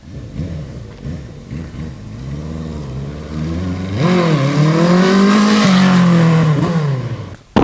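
A 1981 Suzuki GS1100E motorcycle on a test ride revs hard, close and loud. The engine note climbs in pitch and swells to a sustained roar in the second half, then cuts off abruptly.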